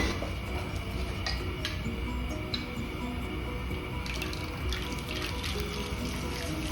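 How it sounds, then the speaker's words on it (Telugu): Boondi batter drops into hot oil and fries, with a dense, steady bubbling sizzle and faint ticking crackles running throughout. "ఇదిగో ఇలా ఆయిల్ కాగింది. ఇప్పుడు వేసేసుకుందాం బూందీ."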